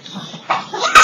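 Puppies yipping and whimpering indoors, a few short high yelps and whines rising toward the end, close and fairly loud during a doodle-art drawing session.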